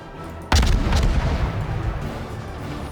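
Destroyer guns firing in the naval video game World of Warships, playing the Benson: one sharp, loud boom followed by a rolling, fading rumble and crackle, with no talk.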